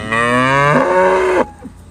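A cow on a dairy farm gives one loud, close, drawn-out moo that rises and then cuts off, followed by a brief faint grunt.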